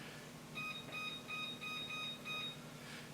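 An air fryer oven gives a run of short, faint electronic beeps as its timer is set, about eight evenly spaced tones over a low steady fan hum.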